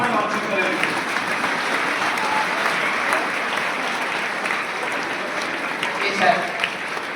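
An audience at a village book launch in Tankaria rises to its feet and claps, producing a dense, sustained wash of applause with a few voices mixed into the crowd noise.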